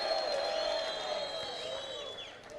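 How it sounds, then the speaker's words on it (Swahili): A crowd claps and cheers for a women's representative at a Nairobi gathering, a steady wash of applause lasting the whole moment, fairly distant and lively. "tumpigie makofi"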